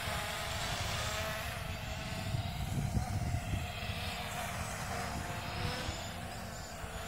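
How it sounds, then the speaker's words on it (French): A drone climbing into the air, its high-pitched propeller whine steady and sustained with shifting pitch, fairly close, alone with no talk over it. "C'est un drone qui monte, si ma mémoire est bonne,"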